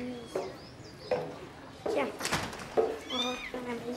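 A kitten meows several times in a home setting, with short high calls recurring through the clip, partly under nearby talk.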